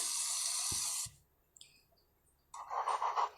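Tap water running into a sink in the game My Play Home Plus, a bright rush that cuts off with a couple of soft clicks, a brief pause, then a second splashy burst of water.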